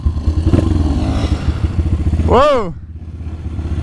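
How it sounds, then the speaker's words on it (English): A dirt bike engine rumbles nearby during an off-road ride, then revs sharply in one rising and falling burst before fading, while a voice exclaims over it. "Dude, dirt bike."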